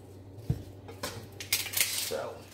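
Knife chopping plain yellow onions on a cutting board, a few sharp isolated cuts followed by a quicker cluster of chops, close and fairly quiet with no talking.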